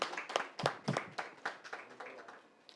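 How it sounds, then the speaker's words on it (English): A small audience claps at an awards press conference, a brief patter of scattered, fairly faint hand claps that thins out toward the end. "please give them a big round of applause"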